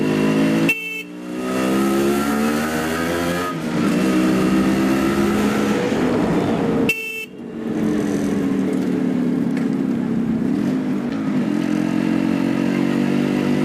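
A Yamaha RX100 motorcycle ridden on a road, its two-stroke engine droning loudly and continuously up close, with two brief breaks where the throttle drops, then the steady buzzing engine note resumes.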